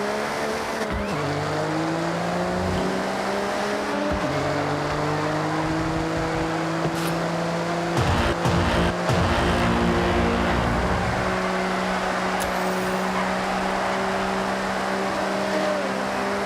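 A Nissan R32 GT-R in an online racing game runs continuously close up, its engine holding steady tones with gear-change drops and a brief burst of tire noise around eight to nine seconds.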